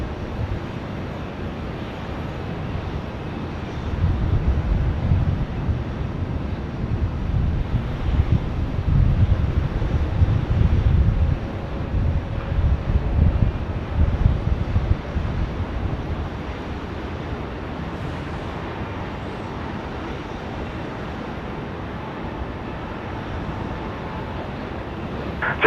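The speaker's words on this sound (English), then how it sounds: "Runway 16 right, clear to land" A distant jet airliner rumbles in for landing on runway 16 right at Sydney Airport, a low, steady roar swelling through the middle and easing off, with faint wind noise throughout.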